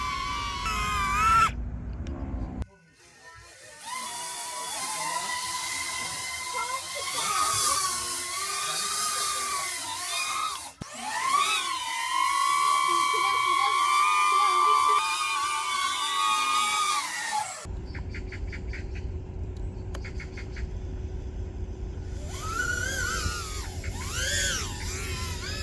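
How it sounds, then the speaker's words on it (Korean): A DJI Neo mini drone flies nearby with a steady, high-pitched whining buzz from its propellers, pitch wavering as it moves, loud and close with a brief cutout partway through. "네오 소음은 이 정도입니다."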